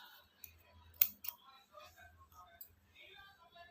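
Scissors snip thread while trimming beads on a saree kuchu tassel, giving a few quick, close, crisp cuts with one sharp snip standing out amid faint handling noises.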